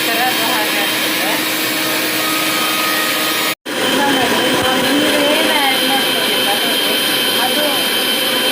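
A mixer grinder whirs loudly as it blends small-cut watermelon pieces into juice, the motor roaring up close, stopping for a split second midway, then resuming at full, steady power.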